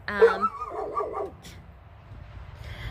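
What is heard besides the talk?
dog barking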